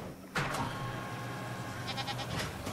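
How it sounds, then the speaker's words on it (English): A goat bleats in the dinosaur park game Jurassic World Evolution 2, one clear bleat over a steady hum of game ambience, followed by faint quieter cries. "I see a goat running around like a lunatic"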